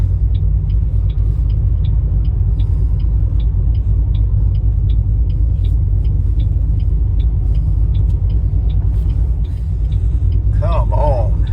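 A 2007 Mustang runs after an engine install, setting out on a test drive; a loud, steady low engine rumble with regular ticking fills the cabin throughout, and voices are heard over it.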